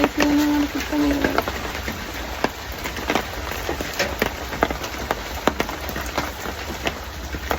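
Rain falls outdoors during a fishing outing, a steady hiss of drops with scattered sharper taps, while a tone briefly sounds at the start.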